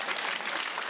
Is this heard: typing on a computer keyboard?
no